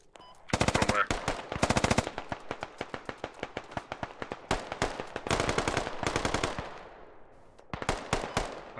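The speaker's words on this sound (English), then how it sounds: "That's enemy fire north of us somewhere." Automatic machine gun fire in the military shooter game Squad during a large 40-versus-40 battle on Al Basrah, long rapid bursts of loud shots repeating throughout, with a brief lull before a final volley.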